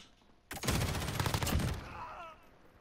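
Burst of rapid automatic gunfire in a multiplayer first-person shooter match, loud and dense for over a second, then fading into quieter game ambience.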